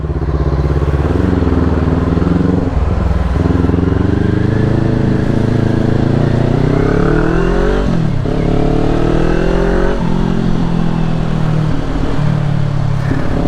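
Honda Click scooters ridden up a mountain road toward Atok's highest point, with a loud, close engine droning steadily and rising and falling in pitch as the riders throttle through the climb.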